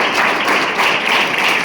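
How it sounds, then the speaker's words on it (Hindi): An audience of schoolchildren and adults at a school results event claps together, a dense, continuous burst of applause, loud and close, with no talking. "तालियां बजाइए जरा बच्चों के लिए"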